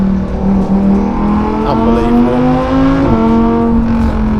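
Lamborghini STO engine revving hard up through its gearbox, a loud close harmonic roar that climbs in pitch, drops at a shift and climbs again; a voice briefly exclaims over it.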